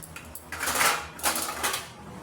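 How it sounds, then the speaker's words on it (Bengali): A metal plate is set as a lid over a cooking pot of vegetarian curry, giving a few close, bright metallic clanks and scrapes in quick succession in a quiet kitchen. "থালাটা আমি ঢাকা দিয়ে দেবো"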